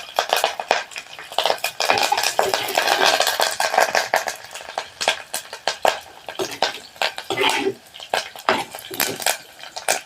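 Shallots and curry leaves are stirred and scraped around a pan on the stove, making busy, loud, continuous scraping and clattering at close range.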